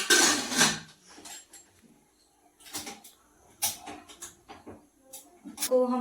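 A pressure cooker lid is set on in a home kitchen, giving a few sharp metallic clanks and clatters separated by quiet moments, near and fairly loud.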